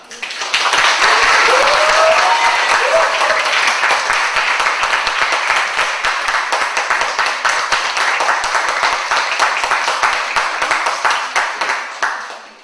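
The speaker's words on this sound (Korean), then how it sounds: "세 발짝 나오실 때 박수를 심차게 치겠습니다" Sustained, loud audience applause at a Korean mentor internship lecture as a medical school professor walks up to speak, a dense wash of many hands clapping steadily for about twelve seconds before tapering off.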